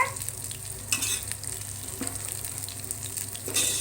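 A pot of dum biryani being stirred, with steady scraping and soft sizzling plus a few louder clinks of the spoon against the pot, close up and with no talking.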